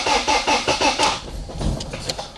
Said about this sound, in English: So I'm going to go turn the key a few times.